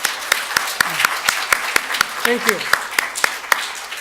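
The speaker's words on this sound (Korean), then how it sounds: "우리 반주자 고맙다고 박수 한번 보내줍시다." A church congregation claps for its accompanist during a Sunday service, a scattered run of separate sharp claps rather than a dense roar, with a voice speaking briefly over them.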